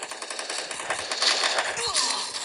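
Rapid automatic gunfire in the Counter-Strike video game, a dense, continuous stream of shots at close range filling the whole moment.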